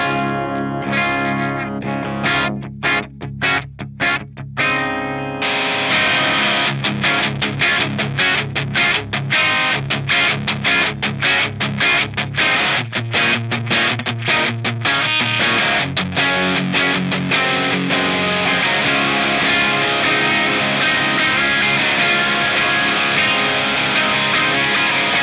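Electric guitar played through an Alpha Drive overdrive pedal, a few picked notes then steady loud driven chords and riffs with thick distortion and a sustained, saturated tone throughout.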